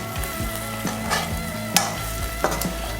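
Egg manchurian frying in a pan with mint added, a steady close sizzle broken by a few louder scrapes and clatters as it is stirred, with no talking.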